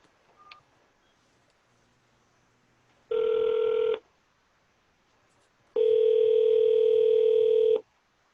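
A telephone line sounds two steady electronic tones on a call, a short one under a second and a longer one of about two seconds, separated by near silence, loud and clean.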